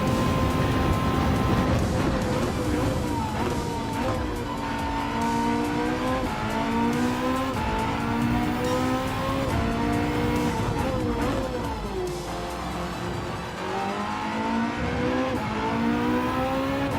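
A race car laps a track in Gran Turismo 7 at Yas Marina, its engine droning loudly and continuously with rising and falling revs through gear changes, plus brief tire squeal in the corners, with no talk over it.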